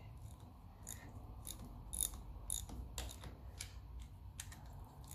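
Faint ratcheting clicks from a socket wrench tightening the rocker shaft bolts on a 1954 Ferguson TEF diesel tractor, a few short metallic ticks spaced irregularly over a quiet background.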